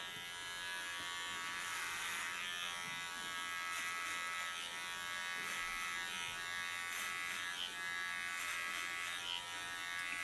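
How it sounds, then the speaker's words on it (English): Electric hair clipper buzzing steadily at close range while cutting short hair near the underline during a haircut, a continuous motor whine with no talking. "Take myself a clipper."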